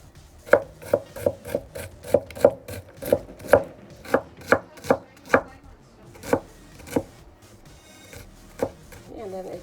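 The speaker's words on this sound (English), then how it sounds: "Okay, so now we got a bunch of green onions, already washed them, and we're just going to cut them up." A knife chops green onions on a cutting board in a steady run of sharp, close thuds, about fifteen quick strikes and then a few slower ones, with no voice over them.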